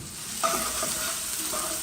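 Corned beef from a tin fries in a pot while a spoon stirs it, a steady close sizzle under a few scraping strokes, with no one talking.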